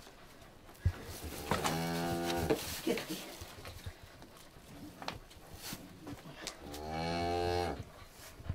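Cattle on a Palacioruiz farm moo loudly and close by in two long bellows, one early and one near the end, with brief speech between them.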